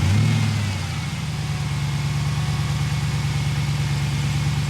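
A Jeep Wrangler JL with a 6.4 engine swap on a freezing day, its engine revving at first and then settling into a steady, loud, close rumbling drone that runs throughout with no talk.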